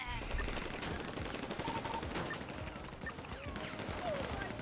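Rapid bursts of video-game gunfire rattle through a shootout, dense overlapping shots sustained across the whole stretch at moderate volume, with faint voices underneath.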